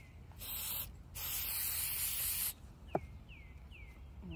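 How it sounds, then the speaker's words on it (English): Spray adhesive hisses from a can onto wooden whirligig parts in a home woodshop, in two close bursts of about half a second and one and a half seconds. A single sharp click follows, then faint chirping sounds. "And then I'm just gonna spray these."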